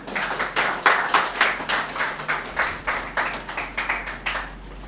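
Audience applause for a poet at a Hindi kavi sammelan, a steady burst of close, crisp hand clapping with rhythmic swells that carries on for several seconds without talk.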